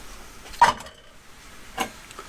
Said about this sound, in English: I'll place a little bit of lead in first.